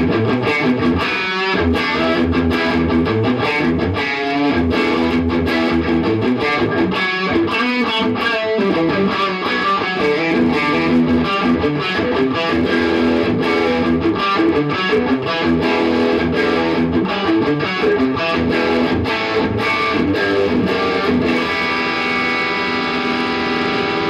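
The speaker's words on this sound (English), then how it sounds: "a nice low to high gain distortion box from Carl Martin" A heavily distorted electric guitar through a Carl Martin Plexitone overdrive pedal plays sustained, saturated riffs with thick overdrive, loud and continuous, with no talking.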